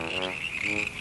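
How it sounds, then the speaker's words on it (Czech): Cartoon frogs croak loudly and close, a buzzing, rasping chorus of overlapping calls that runs continuously for about a second with no talking. "Ale my jsme fakt měli sbírku žáb."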